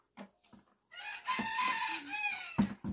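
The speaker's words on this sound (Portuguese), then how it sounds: "o Galo tá cantando aqui" A farm rooster at a vineyard during a grape harvest gives one long, loud, close crow, with a few short clucks and other sounds just before and after it.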